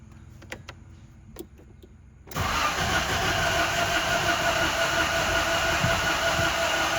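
A $500 Toyota Tacoma truck engine catches after quiet clicks and settles into a loud, steady rumbling run close by, with no talking.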